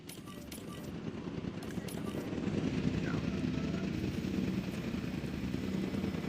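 A helicopter airlifting dinosaurs in Jurassic World Evolution 2 makes a steady, low rotor-and-engine drone that swells slightly and stays continuous, with a voice faintly present over it.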